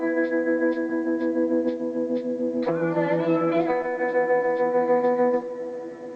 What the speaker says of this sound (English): There's a lot of reverb.